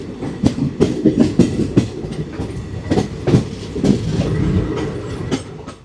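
A passenger train runs on rails near Barharwa Junction with a steady clickety-clack of wheels over rail joints and a continuous rumble, heard from on board.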